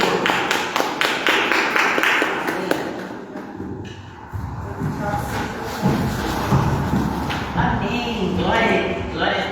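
A church congregation applauding during a service led by a woman pastor: a dense patter of steady, rhythmic clapping that continues throughout, with a voice speaking over it.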